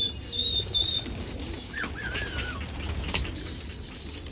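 Pigeons taking flight at night, their wings flapping in quick bursts close by while shrill whistling chirps sound over the steady background.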